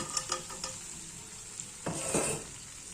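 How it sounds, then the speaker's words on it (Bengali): Fried paneer cubes tipped into a pan of cooked-down masala, with a few spoon taps and stirring, then a louder wet sizzle and scraping as the pieces are turned through the sauce, close and alone. "এবার ভেজে রাখা পনিরগুলো দিয়ে দিচ্ছি"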